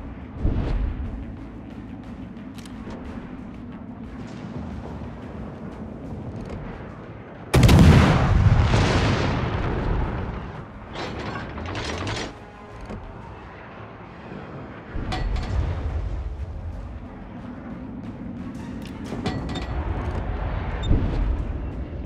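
Naval guns fire in World of Warships, with heavy booming salvos that hit hard at intervals over a steady rumbling battle background, and several big bursts stand out loudly near the middle.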